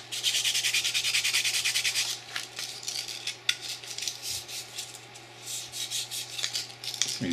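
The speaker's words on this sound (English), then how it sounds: "And I'm going to sand this in here like this." Close-up hand sanding of a metal FN Five-seven pistol feed ramp, a steady raspy scrubbing in quick back-and-forth strokes, dense at first, then lighter and more broken.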